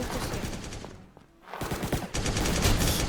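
Rapid gunfire bursts in a shooter video game, dense continuous shots that briefly pause, then resume louder and sustained to the end, no talking.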